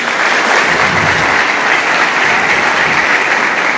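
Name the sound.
students applauding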